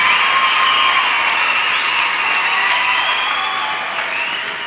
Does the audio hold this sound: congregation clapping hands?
yes